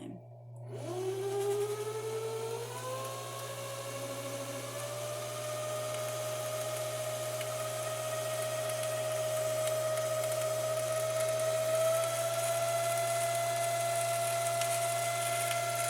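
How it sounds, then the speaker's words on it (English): A sewing machine winds a bobbin: a motor hum spins up within the first second, then holds a steady, close whine that edges slightly higher over time, with no voices. "And now it is bobbin winding time."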